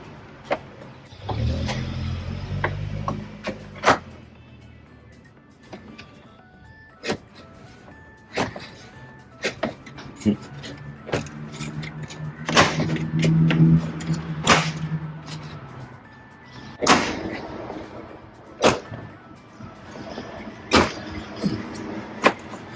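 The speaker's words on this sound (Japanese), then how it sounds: "後期型グリルをはめていきます。" Sharp plastic clicks, knocks and rattles come in scattered bursts as a genuine late-model front grille is handled and pressed into place on a MINI Crossover F60, with a low rumble near the start.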